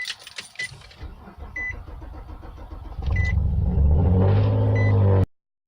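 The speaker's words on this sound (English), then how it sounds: "Here we go, cold start." A Nissan Altima SE-R cold starts: the starter cranks briefly after some faint clicks, the engine catches and settles into a loud, steady idle close by, and then it cuts off abruptly.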